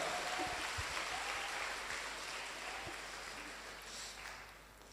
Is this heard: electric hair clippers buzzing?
no